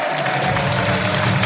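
A congregation at an Easter church gathering applauds, producing dense, loud, continuous clapping that holds steady and close throughout the short burst.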